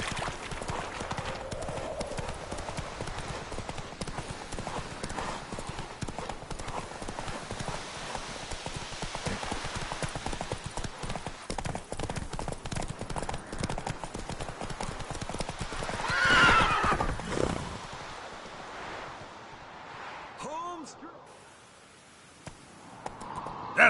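Hoofbeats of Roach, Geralt's horse in The Witcher 3: Wild Hunt, galloping steadily for most of the stretch, loud and close, with a whinny near the end as the pace eases off and the hooves fade.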